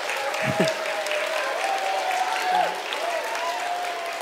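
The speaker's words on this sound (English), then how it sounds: "can we have an extra special round of applause for Ethan and for Abby and for Bella" Audience applause fills a school assembly at an Education Week opening ceremony, steady sustained clapping from a large crowd of students and families throughout, with a voice briefly heard over it.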